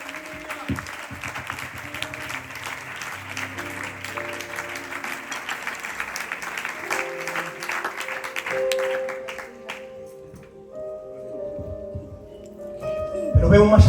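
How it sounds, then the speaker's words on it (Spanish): A church congregation applauding during a sermon, a broad wash of clapping sustained for about nine seconds, then thinning out as organ-like tones and a voice take over. "¿Por qué no le da un aplauso al Señor,"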